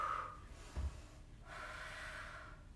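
Breathing during a live yoga class stretch: a sharp nasal intake near the start, then a long, steady airy exhale, close and moderately loud, with no talk.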